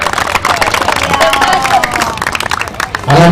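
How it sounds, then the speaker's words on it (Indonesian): A crowd at the Bosowa Sport Center applauds and cheers before a youth football final, with dense clapping and babble close by, fading slightly near the end as a voice begins. "Tepuk tangan untuk Bosowa Sport Center."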